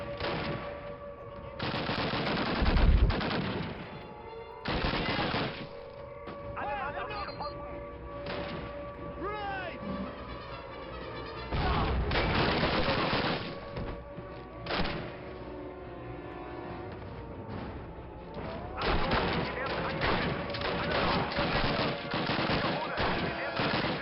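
Rapid bursts of gunfire in the 2003 Call of Duty game, loud volleys and machine-gun rattles with heavy thumps, broken by short pauses across the whole stretch.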